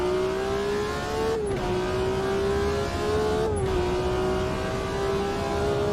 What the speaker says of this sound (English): Beautiful grid of cars, all creating the same amazing sound